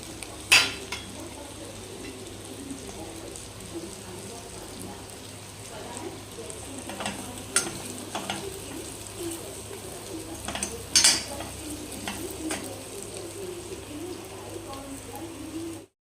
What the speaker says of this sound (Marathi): मऊ हे बघा थोडे मऊ झालेले आपले वांगी छान तेलामध्ये